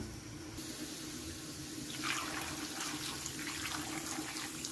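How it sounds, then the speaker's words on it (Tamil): Water runs steadily into a cooking pot of vegetables, a continuous splashing stream that brightens slightly partway through, with no voices. "இப்போ வந்து காய் முங்குற அளவுக்கு தண்ணி ஊற்றி வச்சிடலாம்"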